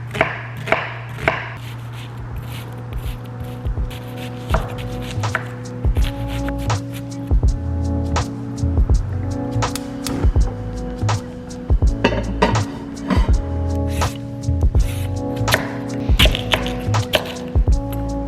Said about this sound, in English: Just some onion and garlic, my least favorite to cut